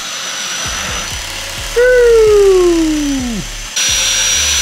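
A Rowenta X-Force 14.60 vacuum cleaner fitted with a rotating upholstery brush works over a couch, its motor a loud steady hum with a descending whine and rhythmic ticking from the brush.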